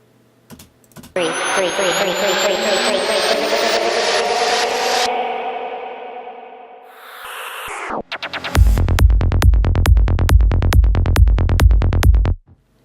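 Dense rapid ticking and a rising sweep build up, then drop out, followed by loud, regular deep bass pulses on a steady beat.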